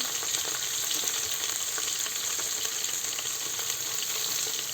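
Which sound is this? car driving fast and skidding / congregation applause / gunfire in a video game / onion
onion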